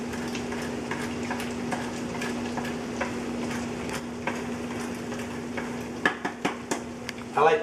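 Fusilli caserecci being sautéed in a pan with sauce, butter, Parmesan and pepper: a soft steady sizzle under a constant low hum, with scattered stirring scrapes and clinks that sharpen into quick knocks near the end.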